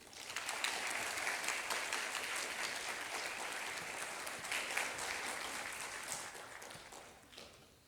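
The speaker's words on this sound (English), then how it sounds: "I hope that each of us as a CLS family can clap for each of the graduates that walk up the stage" A large audience at a graduation ceremony claps for the graduates, a steady, dense roar of applause from many hands, somewhat distant, fading slightly at the end.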